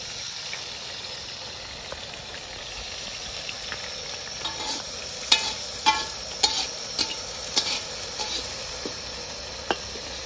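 Onions fry in a kadai at an outdoor village picnic by a dam, a steady low sizzle with scattered clicks of stirring and scraping, fairly close and with no voices.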